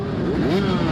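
Dirt bike engines idling and revving together at the start of a GNCC cross-country race on village pavement, a loud, close, continuous drone with rising and falling pitch throughout.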